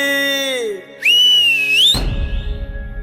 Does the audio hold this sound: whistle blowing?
yes